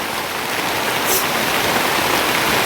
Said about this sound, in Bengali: ওই বৃষ্টি চলে এসছে দেখো কেমন একটা আওয়াজ হচ্ছে